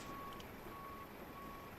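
Faint reversing beeps from a truck at an airport in a flight simulator, a few evenly spaced tones sitting over a steady low hum.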